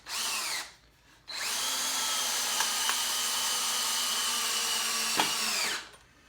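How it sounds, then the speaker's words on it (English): A cordless drill whirs at a steady high pitch in two bursts, a short one and then a long sustained run, with a slight drop in speed at the end, close and loud with no talking. "it's been a wonderful cordless drill"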